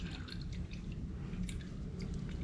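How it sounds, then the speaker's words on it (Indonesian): Old engine oil drips from the drain of a Yamaha R25 motorcycle during an oil change, a faint steady trickle with soft irregular drip ticks, heard alone. "Netes terus coy, terkuras habis."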